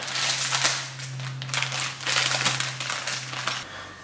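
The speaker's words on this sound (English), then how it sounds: "we're going to cut it open and show you what we've got in the packaging" Packaging of a Senad filter kit for a Baja 5B being cut open: close, crackling plastic crinkles and crunching in uneven bursts over a low steady hum that stops near the end.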